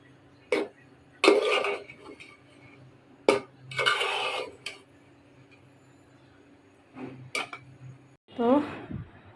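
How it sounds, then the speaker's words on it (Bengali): Broken rice dressed with raw mustard oil is stirred in a pot with the stove off, then the pot is covered with a lid: a handful of close, sharp clattering scrapes and metallic clinks separated by quiet gaps. "এখন নেড়ে চেড়ে আবারও চুলা বন্ধ অবস্থায় আমি ঢেকে রাখবো"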